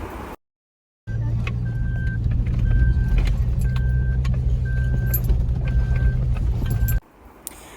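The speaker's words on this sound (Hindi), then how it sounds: "यहाँ हमने की थी अपनी 4x4 ऑफ रोडिंग की थी।" A 4x4 off-road vehicle drives through the Maliha desert in Sharjah, with a loud, steady engine rumble and rattling for about six seconds before it cuts off abruptly.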